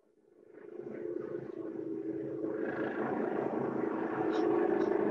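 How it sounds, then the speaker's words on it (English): Airplane noise over a call participant's audio: a low engine rumble fades in and grows steadily louder and rougher, with faint indistinct voice sounds underneath. "Sounds like an airplane."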